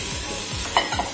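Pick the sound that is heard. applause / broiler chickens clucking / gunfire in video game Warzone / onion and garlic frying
onion and garlic frying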